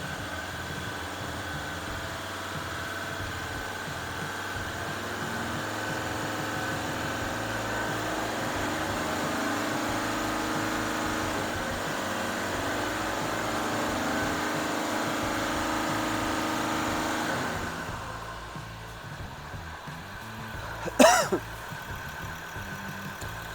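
A Ford Ranger 3.2 diesel with a misfire fault and power loss runs steadily and loudly for most of the time, then drops off sharply near the end, followed by a brief sharp noise.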